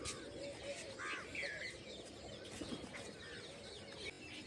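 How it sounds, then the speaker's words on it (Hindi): Pigeons give soft, low cooing calls in the morning, faint and some way off, with a few repeated coos over a quiet outdoor hum. "देखो कबूतर आ चुके"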